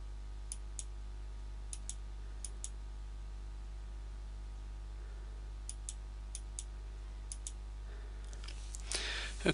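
A computer mouse clicks in short, crisp single and double clicks scattered across a quiet room hum, with a louder shuffle at the end.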